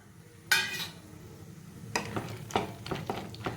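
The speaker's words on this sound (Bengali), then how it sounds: "এবার পাস্তাকে দিয়ে দেবো।" Pasta tipped into a pan of tomato sauce and stirred, with a clatter as it drops in, then soft sizzling and scraping spoon strokes, close and fairly quiet.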